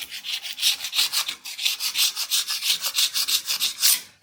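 A scraper works wallpaper off a wall in quick, rhythmic rasping strokes, about five per second, close and steady with no voices.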